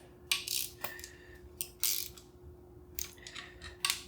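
Small metal clicks and rattles from a hand tool snugging up 3/16 Allen-head valve cover bolts on a small block Chevrolet engine, quiet and close, in short irregular bursts with pauses between.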